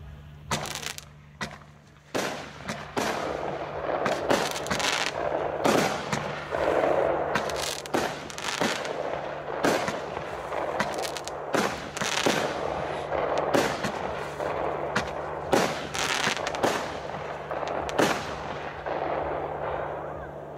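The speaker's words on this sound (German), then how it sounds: "jetzt geht's weiter mit der Russian Roulette, 14 Schuss, 158 Gramm Netto-Explosivmasse, Kaliber 25 mm" A Russian Roulette firework battery with 25 mm calibre and 14 shots fires at a New Year's Eve preview show, a rapid string of sharp loud bangs and booms spread across the whole stretch.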